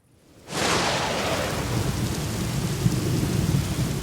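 A heavy rainstorm bursts in after a moment of near silence, with dense steady downpour and low rumbling wind sustained throughout.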